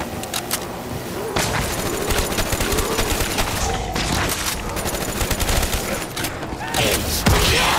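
Rapid, loud gunfire tears through zombies in Call of Duty: Black Ops 3 Zombies Chronicles on the Kino der Toten map, with dense bursts of shots layered over thick game noise and crashes.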